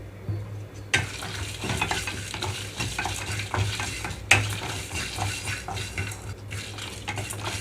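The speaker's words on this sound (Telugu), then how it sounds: "ఇందులోనే వెల్లుల్లి రెమ్మలు కూడా వేస్తున్నాను ఒక రెండించుల వరకు ఎండు కొబ్బరి" Garlic cloves and dry coconut roast in a pan while a spatula scrapes and clinks against the metal repeatedly over a soft, steady sizzle, close and fairly quiet.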